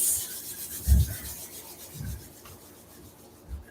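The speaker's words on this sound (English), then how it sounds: "Inhale, rub the palms" Palms rub together softly at close range in a couple of brief swishing strokes with quiet gaps between them.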